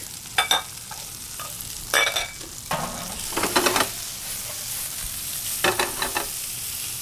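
Shallots and sliced garlic sizzle in a pan with browning mushrooms, a low steady fry punctuated by several sharp bursts of clatter and stirring scrapes, close and without speech.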